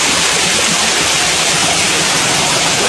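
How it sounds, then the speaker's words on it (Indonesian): A waterfall at a village bathing spot roars as a loud, dense, unbroken rush of falling water that fills the whole space, with no voices over it. "hari ini aku sama teman-teman mau mandi air terjun"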